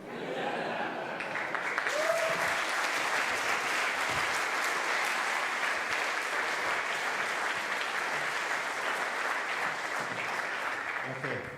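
Sustained audience applause fills the room at a conference talk, steady and dense from start to finish with a few scattered chuckles mixed in.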